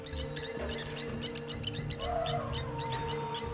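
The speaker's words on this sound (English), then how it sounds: "When its nest is threatened, the lapwing sounds the alarm." A lapwing, a plover, gives repeated sharp alarm calls near its threatened nest, quick high piercing notes in irregular bursts over a steady outdoor background with low rumbling.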